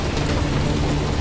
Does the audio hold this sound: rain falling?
yes